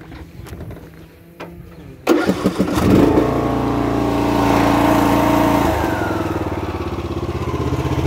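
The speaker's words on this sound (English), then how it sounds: "Alright, let's go for a start here. Let's start it up." A Snapper rear-engine riding mower cranks briefly, then its small engine catches with a sudden loud start about two seconds in and settles into a steady, close running drone with a slight shift in pitch near the end.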